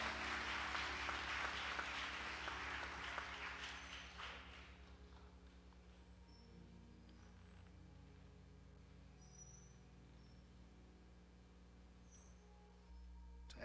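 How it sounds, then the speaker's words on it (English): A church congregation at a funeral service claps in praise, a fairly faint burst of applause that fades out after about four seconds and leaves quiet room tone. "Let's give the Lord a hand clap of praise for Minister Sales."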